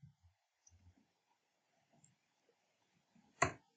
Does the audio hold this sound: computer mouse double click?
yes